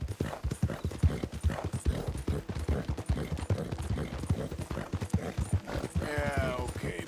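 Horse hooves clip-clopping at a steady quick gait while riding in Red Dead Redemption 2, close and prominent throughout, with a brief whinny-like tone near the end.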